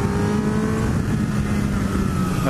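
Honda CBR1000RR SP superbike from 2017 on its stock exhaust and airbox, roaring loudly and continuously under hard throttle, a dense, steady engine howl with no voices.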